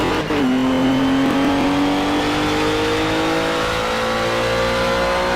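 Project car engine revving hard as heard from outside, a loud sustained roar whose pitch dips then climbs steadily under acceleration, with no talk over it.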